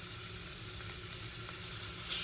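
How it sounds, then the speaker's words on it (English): Steady, crackling sizzle of chicken strips frying in a hot pan, continuous and close with no talking. "Get that nice little sizzle."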